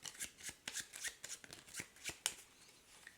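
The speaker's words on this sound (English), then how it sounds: "first of all, shuffle his deck up." A deck of cards is shuffled for the Wyrmspan board game, a quick series of soft riffling flutters and snaps close by, repeating several times at a moderate level without talk.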